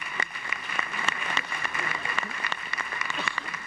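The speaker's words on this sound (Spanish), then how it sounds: "Les voy a pedir a ellos sí que se paren para que le demos un caluroso aplauso de bienvenida y de recibimiento en nuestro país." Scattered, moderately quiet applause from a standing audience welcoming international guests at a national and international territorial planning seminar, with individual claps audible over a steady background hum.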